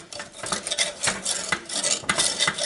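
Close, busy scraping and clinking of a spoon stirring toasted walnuts into thick salted caramel pie filling in a bowl, with sticky swishes and small knocks in an irregular rhythm, no talking.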